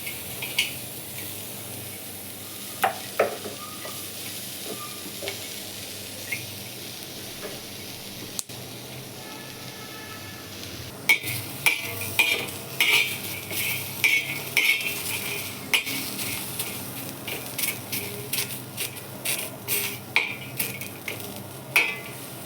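Coconut, green chili, ginger, pepper and cinnamon dry-roast in a pan with a soft sizzle, while a spoon scrapes and clinks against the metal, growing busier and more rhythmic in the second half.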